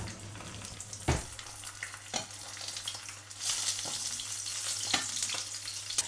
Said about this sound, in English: I've got my egg, which is crisping up